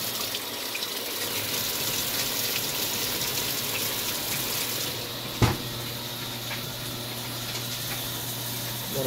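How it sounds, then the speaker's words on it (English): Warm water pours steadily into a Maytag washing machine in a continuous gushing stream, with one brief knock partway through and no talking. "So I can show you that water works like it's supposed to."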